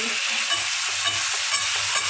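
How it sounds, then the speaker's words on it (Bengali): Meat being sautéed and stirred in a pan for a home-cooked meat curry. A steady, close sizzle fills the whole clip, with soft scraping stirs rising through it and no talk. "এই যে এখন হচ্ছে মাংস কষা হচ্ছে"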